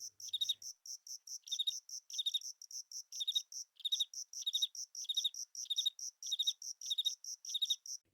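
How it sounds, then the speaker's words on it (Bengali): Crickets and other insects chirp in a forest at dusk near Sillery Gaon, a steady run of rapid, high-pitched pulsed trills repeating in even bursts, clear and alone with no talking. "শুধু শোনা যাচ্ছে ঝিঝি পোকা আর অচেনা সব পোকামাকড়ের শব্দ।"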